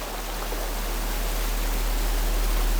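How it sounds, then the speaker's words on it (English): Broad, steady roar of river rapids rushing midstream on a remote South Pacific survival expedition, loud and unbroken throughout with no voices. "You gotta talk a little loud with these rapids."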